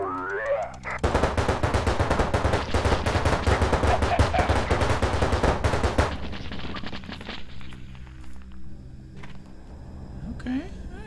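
A heavy gunner fires a machine gun in the PC strategy game Tales from the Void, a loud sustained burst of rapid gunfire lasting several seconds that then fades into a rumbling tail with lighter game sounds.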